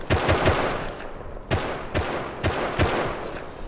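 Semi-automatic rifle gunfire in the video game Rust: a run of sharp single shots in irregular groups, close and loud, with short pauses between bursts.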